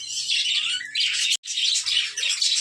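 Male budgerigars kept for breeding chirp and warble in a dense, continuous chatter. The calls are close and fairly loud, with one brief silent gap midway, and no voices are heard.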